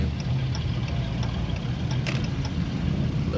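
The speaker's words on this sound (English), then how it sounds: "That Camaro sounds nasty though." Camaro engine running with a steady low idle rumble, continuous and fairly loud throughout amid a car meet setting.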